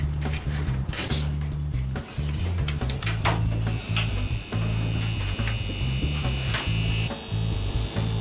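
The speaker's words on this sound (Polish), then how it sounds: "uruchamiam wentylatorek" A small electric fan on a waste-oil stove heater in a garage workshop, driven from a power supply, runs with a steady buzzing motor hum, broken by brief dips and occasional clatters and clicks nearby.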